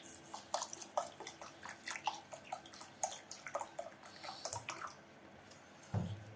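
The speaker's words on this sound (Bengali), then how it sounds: "পোলাওর চালটা আমি ভালো মতো পরিষ্কার করে নিব।" Polao rice being rinsed clean in water, with sloshing, swishing and dripping sounds as hands work the grains, fairly quiet and close, with a brief splash near the end and no speech.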